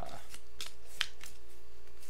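Tiny Swords game cards being shuffled by hand, a quiet papery riffle with one brief sharper snap, soft and close against a faint background hum.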